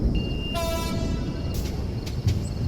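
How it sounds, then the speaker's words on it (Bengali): A distant train whistle sounds once for under half a second over a steady rumbling background at night, followed by a few brief rattling bursts. "হঠাৎ করেই দূর থেকে ভেসে এলো ট্রেনের হুইসেল"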